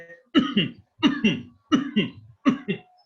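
Four forced coughs in an even rhythm, each a sharp double burst of breath from a yoga breathing exercise, close and clear with brief silences between.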